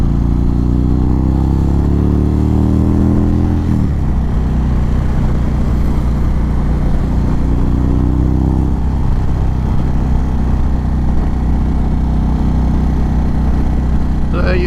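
A 2019 BMW K1600B or 2018 Indian Roadmaster motorcycle engine revs up and drops back, with a steady loud engine drone running throughout and a second rise in pitch a few seconds later.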